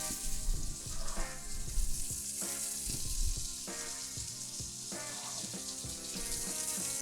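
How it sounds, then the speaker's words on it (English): A mirepoix of carrots, onions and celery sizzling in oil over medium-high heat, a steady dense hiss with occasional stirring bumps, continuous and close, without talk. "then we'll cook off our mirepoix of carrots, onions, and celery"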